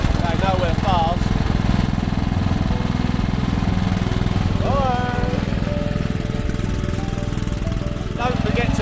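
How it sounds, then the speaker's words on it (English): A lawn mower engine chugs loudly and continuously with a rough, pulsing rhythm, while voices call out over the top of it. "I think I'm going to need to buy a new mower."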